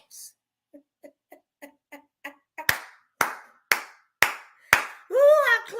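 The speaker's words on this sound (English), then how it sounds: "I will clap by myself." A lone person claps by themselves. Faint light taps give way to about six loud, sharp hand claps in an even rhythm, close by, and then a brief vocal exclamation follows.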